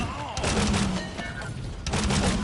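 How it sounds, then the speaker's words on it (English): Broadside cannon fire in Paladins: a few rapid booming volleys, close and loud, with a rumble between bursts and speech over the top. "I can fire out 2 broadsides like that"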